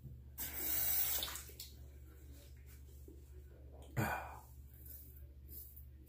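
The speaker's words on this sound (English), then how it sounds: "I'm going to go ahead and rinse the razor" A safety razor held under a running bathroom tap, with a steady hiss of water and a brief louder splash near the start and another partway through, over a low hum.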